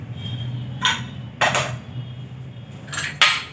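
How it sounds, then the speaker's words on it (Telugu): A metal lid set onto a cooking pot while making a sweet mango pickle, giving three distinct clanks at uneven intervals over a low steady hum, close by and without any talking. "వచ్చాయి కదా జ్యోతి, మూత వేస్తున్నాను."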